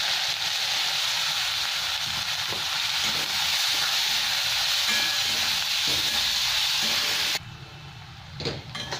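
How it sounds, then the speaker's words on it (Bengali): Chopped onions fry in hot oil with spices, a loud, steady close-up sizzle and hiss that holds evenly, then drops off sharply, leaving quieter crackles and a brief stirring clatter. "এটা একটু ভাজা হবে, তারপরে পেঁয়াজ তুলে দেবো আমি।"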